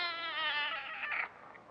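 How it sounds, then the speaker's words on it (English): A little kitten meows in a thin, high, wavering cry that rises and then fades out, a single drawn-out call heard fairly close in a quiet room. "As a matter of fact, we do have a little kitten."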